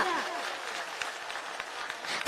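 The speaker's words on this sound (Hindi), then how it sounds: "तालियों की गड़गड़ाहट से बताएं कि बहुत अच्छा लगा।" Crowd applause at a Jitu Patwari public rally in Damoh, Madhya Pradesh, a steady wash of clapping with a brief voice at the start, with sharper claps scattered through.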